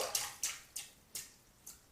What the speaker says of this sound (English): I'm going to shake out most of the water